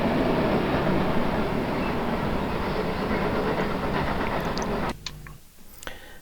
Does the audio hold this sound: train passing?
yes